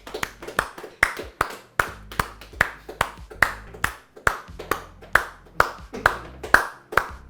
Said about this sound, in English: Everybody, come on, start clapping.